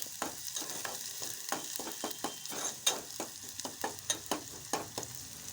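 Onions frying in three spoons of oil over a high gas flame, a steady bright sizzle broken by repeated scraping stirs, close up with no voices.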